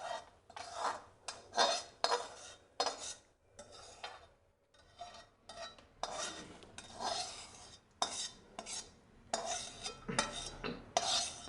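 Roasted fenugreek seeds are scraped out of a pan into another vessel, giving a quiet series of metallic scrapes, rubs and rattling pours in uneven bursts with brief pauses, close by and free of talk.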